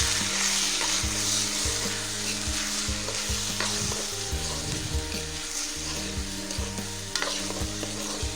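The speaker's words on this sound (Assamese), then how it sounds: "আৰু প্ৰায় 2 মিনিটমান সময় ভালদৰে ভাজি ল'ম।" Rice grains fried in a little hot mustard oil in a wok, a loud continuous sizzle with repeated scraping stirs of a spatula throughout, close up and alone without voices.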